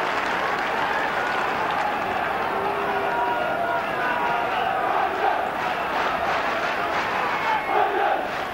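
QPR football supporters roar and chant together in a stadium during a 1990 FA Cup replay against Liverpool, a dense, continuous wall of crowd noise with swells of shouting.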